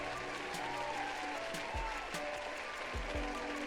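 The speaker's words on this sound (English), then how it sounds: "Cue those applause for me." Applause cued on a horror podcast: a steady wash of clapping at moderate level with tonal sounds and a few low thumps underneath, no speech over it.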